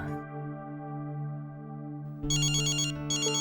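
A phone ringtone chimes in bright, repeated bursts over a steady musical background hum, starting partway through and continuing to the end.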